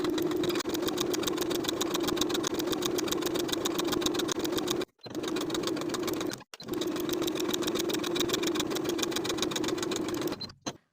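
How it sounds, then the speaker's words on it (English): A sewing machine stay stitches the neckline of a boat neck sweater, its fast, even mechanical whirr running close and loud with two short pauses before resuming. "Stay stitch the neck edge of your front piece and the neckline edge of your back piece, stitching within the seam allowance."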